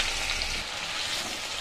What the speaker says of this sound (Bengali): আলুগুলো অনেকটাই ভাজা হয়ে এসছে